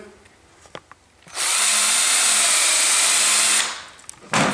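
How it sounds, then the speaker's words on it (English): A power tool whirs in a loud, steady high-pitched burst lasting about two seconds as it reams the cut end of tubing, preceded by a few light clicks and followed by a short handling noise. "ream your tubing"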